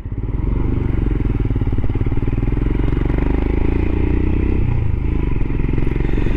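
A Royal Enfield Himalayan motorcycle running on the road, its single-cylinder engine thumping steadily and loudly up close with wind rumble and a slight rise in revs midway.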